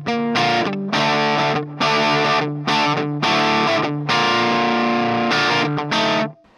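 Electric guitar played through a cheap multi-effects pedalboard with amp emulation and distortion, loud saturated chords struck in short bursts with brief gaps between them.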